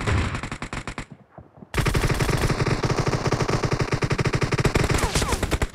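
Rapid automatic gunfire from Battlegrounds Mobile India rattles in dense bursts, cuts out for a brief half-second pause, then resumes in a long sustained stream of close, loud shots.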